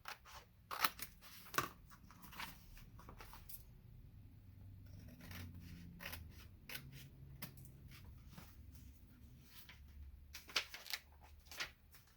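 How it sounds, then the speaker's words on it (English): Scissors snip excess paper off a page in a quiet sequence of sharp cuts, clustered at the start and the end with soft rustling and handling sounds in between. "I'm just going to use that as a guide to guide me through, and then cut this excess off."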